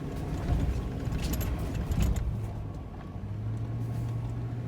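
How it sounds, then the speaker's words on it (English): A 2021 GMC 2500HD pickup with the 6.6 gas engine climbs a steep off-road hill in two-wheel drive, its engine droning low and steady under rattling cab noise and the clinking of loose items. "I can't believe we are going up this in two-wheel drive, boys."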